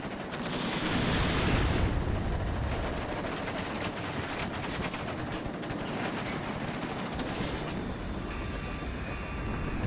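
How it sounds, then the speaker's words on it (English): Small arms fire crackles in a dense, continuous rattle aimed at a Ka-52 attack helicopter in the WARNO strategy game, loud and sustained with a rumbling low-end battlefield wash throughout. "Some small arms fire at the Ka-52."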